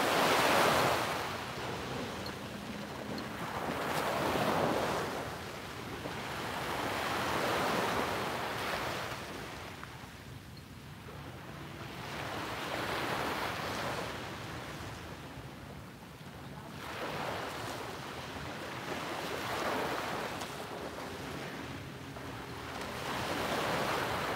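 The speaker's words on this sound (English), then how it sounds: "Let's soak in the sound of the waves" Ocean waves at sunrise, rolling in and washing up in slow, regular surges every few seconds, full and broad with a soft roar between crests and a touch of wind.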